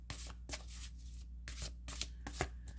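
Astrology cards shuffled by hand in a series of crisp riffling bursts with short pauses between them, soft and close in a quiet room.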